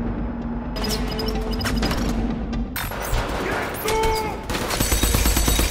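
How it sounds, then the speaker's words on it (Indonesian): Rapid gunfire crackles through a corridor shootout in a film, as dense bursts of shots and loud impacts fill the whole stretch. "Di lorong, baku tembak terjadi."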